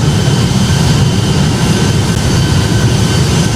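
Boeing 757 jet engines at takeoff climb in the Project Flight game, heard as a loud, steady, dense roar with a deep rumble underneath and no talk.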